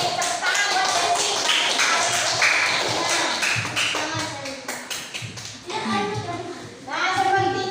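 A school class of children claps for a classmate named Desi, a dense patter of small hands under lively children's chatter and voices, fairly close and continuous.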